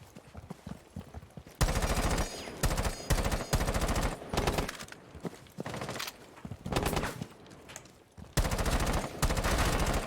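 Automatic gunfire in the Rainbow Six video game, dense rapid bursts of shots coming in several loud volleys with short gaps between them.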